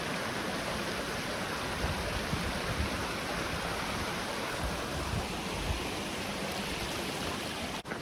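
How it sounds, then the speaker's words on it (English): A small stream pours over some pipes into its own little waterfall, a steady dense rushing hiss of water close by that continues unbroken without voices. "Over some pipes right here and down into its own little waterfall."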